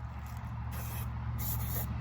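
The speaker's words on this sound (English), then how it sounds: "I'm literally just spray painting books in the backyard." A spray paint can hisses in a steady, continuous stream close by, painting the edges of books outdoors in a backyard, under a low background rumble.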